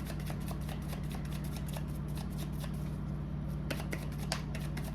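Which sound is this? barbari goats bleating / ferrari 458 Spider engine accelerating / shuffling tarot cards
shuffling tarot cards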